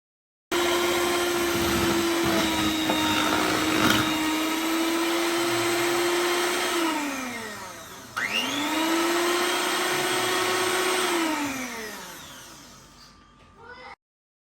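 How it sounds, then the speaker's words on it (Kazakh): An electric mixer whips cream cheese, cream and powdered sugar, giving a steady motor whir that winds down midway, restarts and rises back to a constant hum before stopping. "творожный сыр, сливки және қант ұнтағы. Осыны миксерлеп аламыз."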